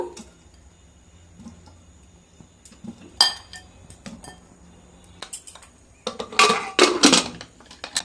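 Potatoes and water go into a pressure cooker, heard as scattered metallic clinks and knocks, with a louder burst of clattering and splashing toward the end, close and without talk.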